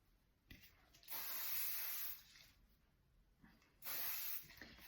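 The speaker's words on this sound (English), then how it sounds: "And a little bit of hairspray for hold." Schwarzkopf Silhouette hairspray is sprayed onto blow-dried hair in two close, loud bursts of fine hissing aerosol, each lasting about a second, with quiet handling sounds between.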